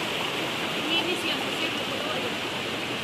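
Spring water flowing at a natural spring in the Philippines, a constant hissing rush of moving water heard close and steady, with faint background hints throughout.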